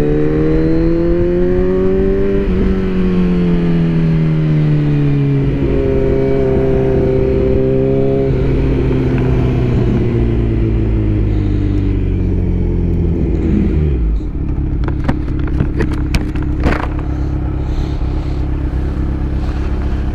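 A Kawasaki Z900 motorcycle engine revs and pulls hard through several rising gear runs while riding, loud and close with wind rush, then a shift and a dip near the end.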